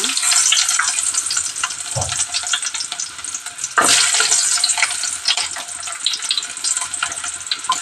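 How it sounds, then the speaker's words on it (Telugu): Onions sizzle steadily in hot oil for a mutton curry, a bright, close crackling hiss with stirring scrapes and occasional louder bursts, heard alone without talking. "ఇప్పుడు వచ్చేసి మనము కాగిందండి నూనె ఇప్పుడు వచ్చేసి ఆనియన్ వేసుకున్నాము"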